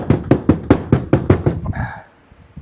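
About eight sharp knocks on a hollow wooden beehive box in quick, even succession to dislodge bees, followed by a short buzzing rush of bees and then quiet.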